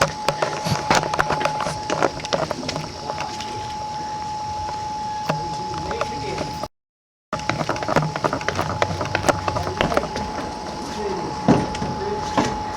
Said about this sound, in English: Moving the fridge.